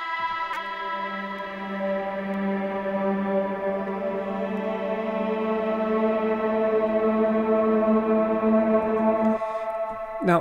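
Two layered Chimera drone instruments in Decent Sampler swell into a dense, sustained harmonic drone with a siren-like quality, holding steadily for about nine seconds before cutting off abruptly.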